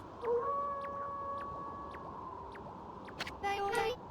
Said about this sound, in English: That was Kimu's howl. He's calling you, Isun.